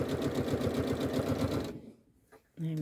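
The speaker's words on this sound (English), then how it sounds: "So I'm just going to stitch down the centre of both of these. And I'm just using a regular straight stitch" A Janome sewing machine runs a regular straight stitch with a fast, steady mechanical whir and needle rhythm, loud and close, stopping partway through before a voice speaks.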